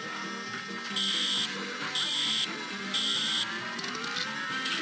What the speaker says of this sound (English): You thought one fire alarm was bad, not three at once